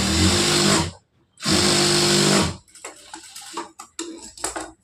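Sewing machine stitching band cloth for a blouse: two loud, steady whirring runs of about a second each, separated by a brief pause, then softer ticks and handling clatter as the cloth is adjusted.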